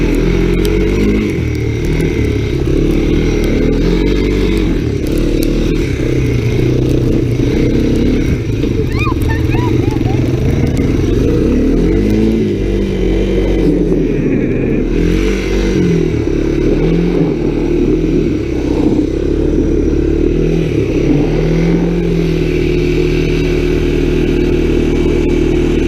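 An ATC three-wheeler engine rides through snow during a winter snowstorm, its steady mid-pitched drone rising and falling with revs, close and continuous for the whole stretch while a voice talks over it.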